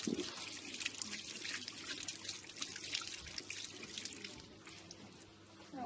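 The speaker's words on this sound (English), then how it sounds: "Now I'm going to rinse my hands thoroughly under the running water" Steady running tap water splashes over hands being rinsed at a sink during a microbiology handwashing routine, a continuous close hiss and trickle with no talk.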